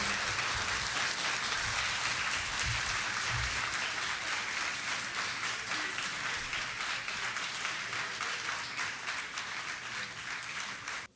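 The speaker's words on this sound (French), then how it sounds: "Applaudissez très fort." A crowd at a student journalism festival final claps loudly and continuously, a thick steady roar of many hands that lasts over ten seconds and fades slightly toward the end, with no speech.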